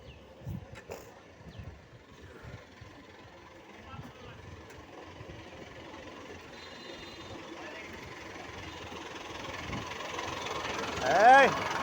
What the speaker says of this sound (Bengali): এই ট্রেন আইলো, ট্রেন আইলো, এই ট্রেন আইলো।